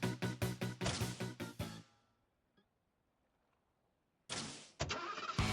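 A car engine in The Legend of Heroes: Trails to Azure cranks with rapid rhythmic starter pulses, cuts to near silence, then roars back loudly twice near the end.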